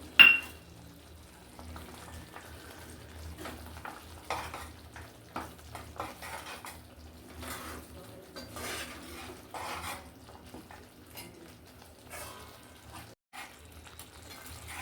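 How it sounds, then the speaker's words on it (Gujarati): Roasted cashews stirred into kaju gathiya sabzi in a pan, with a spoon scraping and clinking against the metal, soft sizzling and gentle stirring rattles throughout, close and quiet. "હવે આપણે રોસ્ટ કરેલા કાજુને એમાં એડ કરી દઈશું."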